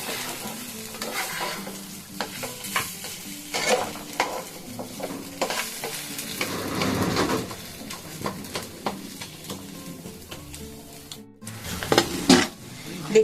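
Onions frying in a pan as a cabbage bharta is cooked, with a soft sizzle under repeated scraping and clattering stirs of a utensil against the pan, close and busy, pausing briefly near the end.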